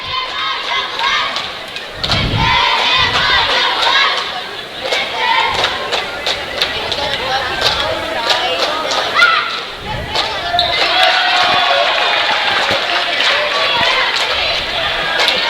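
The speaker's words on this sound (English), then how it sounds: "Getting the crowd alive a little bit now" Crowd noise rising at a high school boys basketball game in a gym, Watonga at Hinton, with steady cheering and shouting, scattered ball thumps and squeaks, and voices talking throughout.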